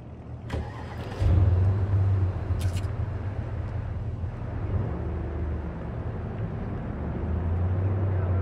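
A car in Cyberpunk 2077 starts and drives off, the engine catching with a rising rev and then humming steadily at mid pitch, close and continuous with occasional clicks.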